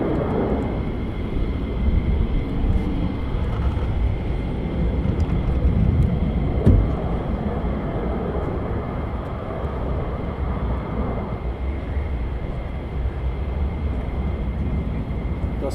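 A fighter jet landing at RAF Lakenheath airbase, a loud sustained broadband jet roar that swells slightly and then holds steady, heard from a distance outdoors with no talking.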